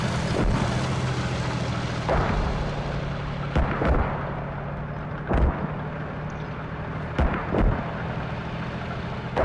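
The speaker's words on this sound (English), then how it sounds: "Really effective mortars landing on the south of Lower Pet here." Mortar shells land in a tactical war video game match, a series of sharp, booming impacts spaced a couple of seconds apart over a steady low rumble of battlefield ambience.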